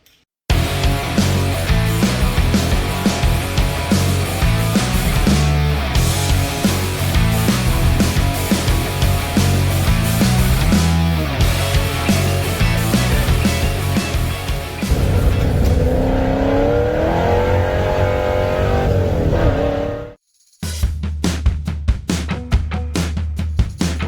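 A car with a Cleveland engine driving hard, loud and close, with a throbbing exhaust note rising and falling through repeated revs and gear changes, a brief cut-out, then more revving.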